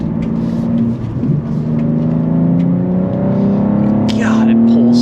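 A G87 BMW M2 sports car engine climbs steadily in pitch as it accelerates hard, a rising drone heard from inside the cabin, with a brief voice near the end.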